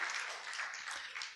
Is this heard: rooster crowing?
no